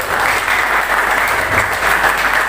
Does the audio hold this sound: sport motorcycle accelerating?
no